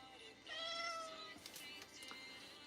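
A cat meows once, a clear, drawn-out call near the listener, followed by faint rustling in a quiet room.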